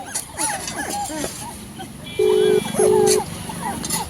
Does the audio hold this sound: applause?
no